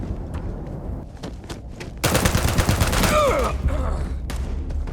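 Turrets fire in the sci-fi game Starfield, starting as scattered shots and then turning into a loud, dense burst of rapid gunfire with electronic whines, while a person talks faintly underneath.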